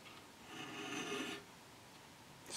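A dovetail file rasping against a metal casting gate on a Kibler Woodsrunner flintlock muzzleloader kit part, a close, quiet stroke lasting about a second followed by a brief start of another.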